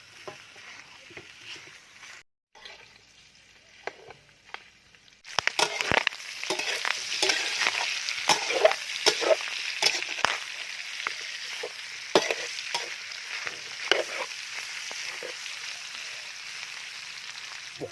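Pork cracklings fry in hot oil with a dense, crackling sizzle that turns loud and busy partway through, full of sharp spatter pops over a constant hiss.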